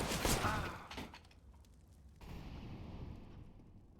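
Several grenades burst at once on a bombsite in a professional CS:GO match on the Train map, a loud blast that quickly fades into a low rumble with a second swell of noise behind it.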